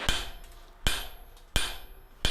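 Four sharp, ringing hammer blows at uneven spacing as a demolition chisel is forged into a chasing hammer, each strike close and loud with a metallic ring decaying between hits.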